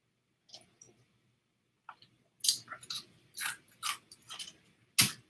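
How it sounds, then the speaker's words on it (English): Someone chewing on ice, a series of sharp close crunches and clicks in irregular bursts, separated by short pauses and ending with a loud crack. "I was chewing on ice."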